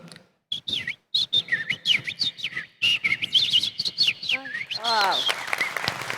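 A person imitates sparrows with rapid bursts of short, high, whistled chirps and tweets, some sweeping quickly up and down.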